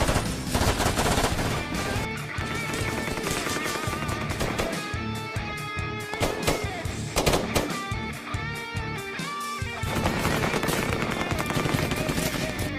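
Dense battle gunfire from the war film Special Forces, with rapid machine-gun bursts and scattered rifle shots crackling continuously under a music score, loud and sustained with no pause.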